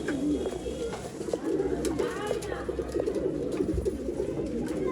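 Pigeons kept for sale in Bangalore coo in a steady, overlapping chorus against a noisy, crowded background, with faint voices mixed in.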